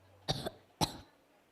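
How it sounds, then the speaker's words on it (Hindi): A woman coughs twice in close succession, each a short, sharp, fairly close burst, with quiet stillness around them in an indoor Hindi skit. "ये तो बस हल्की सी खांसी है।"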